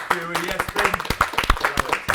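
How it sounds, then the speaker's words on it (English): Scattered hand claps ring out for two England rugby players at the close of a live studio show, uneven and close, over a voice talking. "So round of applause for Finn and Will."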